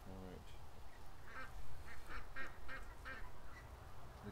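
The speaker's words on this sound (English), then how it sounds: "The geese are looking at me." Geese calling near an open gate outdoors, a series of short nasal honks repeating irregularly over a steady low background rumble, moderately close and fairly faint.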